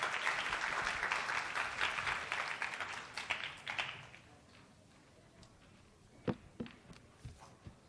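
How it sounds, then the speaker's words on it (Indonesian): Applause from a seminar audience for two speakers at an academic event, a dense clapping roar for about four seconds that thins out to scattered claps, shuffling and footsteps. "Mari sekali lagi kita berikan tepuk tangan yang paling meriah."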